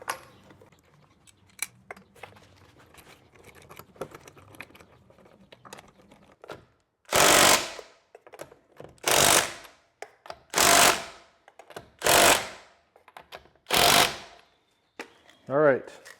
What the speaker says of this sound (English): we're going to get the lugs started. Let's get those in place. This is where our screw gun works well